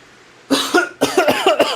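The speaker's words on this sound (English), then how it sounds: "I needed to cough all the way through that." A burst of close, loud coughing in several rough fits, one after another, with short gaps between them and no talking.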